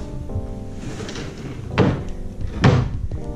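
Desk drawers in a hotel room in Jimbaran, Bali slide and bump shut twice, two hollow wooden knocks about a second apart over a low room hum.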